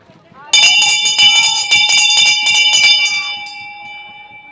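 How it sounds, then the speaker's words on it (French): A bell rings out in rapid repeated strikes over about three seconds, loud and close, signalling the final lap of a harness trotting race in Tahiti, then fades with a lingering ring. "la cloche va bientôt retentir pour vous annoncer le dernier tour"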